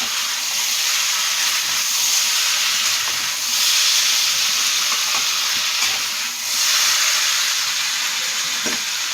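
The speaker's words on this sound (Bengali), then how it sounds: "গরম জল দিয়ে দিচ্ছি" Hot water poured into a pan of well-fried potato and papaya curry, raising a loud, sustained hiss and bubbling steam that surges twice, with no talk.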